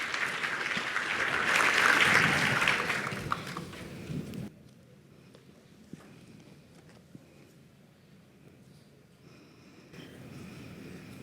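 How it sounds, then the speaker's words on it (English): Conference audience at a pharmaceutical regulation summit gives a swelling round of applause that peaks and then cuts off abruptly, followed by quiet room noise with a few scattered thumps. "Please give them a round of applause"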